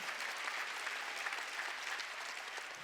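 A church congregation at a Wednesday worship service claps steadily, a dense wash of hands that sounds somewhat distant and fairly quiet, with no voices standing out.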